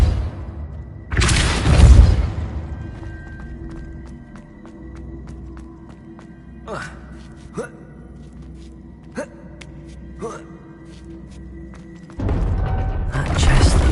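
A treasure chest mechanism opens in the video game Hogwarts Legacy: a loud whooshing burst, then a run of light clicks and ratcheting ticks over a low hum, ending in another swelling rush.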